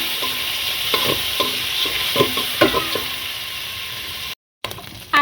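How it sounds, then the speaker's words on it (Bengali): Shrimp fry in oil in a wok for a shrimp pasta and noodle dish. A steady, close, loud sizzle runs throughout, with rhythmic scraping and stirring strokes and a brief dropout near the end. "আগে চিংড়ি মাছগুলো ভেজে নেব।"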